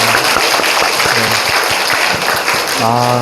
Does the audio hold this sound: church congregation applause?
yes